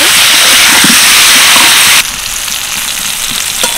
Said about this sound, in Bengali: ভালোভাবে নাড়াচাড়া করে উচ্ছে আর পেঁয়াজটা ভালো করে ভেজে নেব।